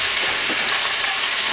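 Ginger garlic paste hits hot oil with fried golden onions, cloves, cardamom and cinnamon for vegetable pulao, giving a loud, steady, bright sizzle that holds throughout.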